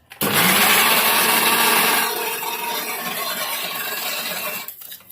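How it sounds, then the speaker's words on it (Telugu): A mixer grinder whirs loud and steady as it grinds fried gongura leaves in its jar, starting abruptly and running at high pitch before settling to a slightly lower drone, then cutting off near the end. "ఇప్పుడు ఇందులో ఫ్రై చేసి పెట్టుకున్న గోంగూరని ఈ మిక్సీ జార్లో వేసుకొని గ్రైండ్ చేసుకోవాలి"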